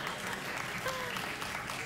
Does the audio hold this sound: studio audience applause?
yes